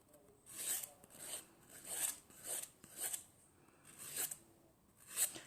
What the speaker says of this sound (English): with the softer side of my file, I'm gonna go around my cuticle